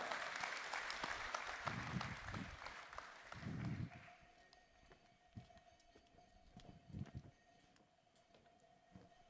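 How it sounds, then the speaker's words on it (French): Audience applause at the opening ceremony of an insurance conference, a burst of clapping that fades after a few seconds, leaving scattered claps over a steady tone. "Mesdames et messieurs, applaudissements pour Pépitar."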